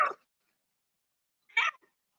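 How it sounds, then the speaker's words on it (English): A cat behind a computer gives two short meows about a second and a half apart, close and clear with silence in between. "Sorry about the cat now. The cat's behind my computer."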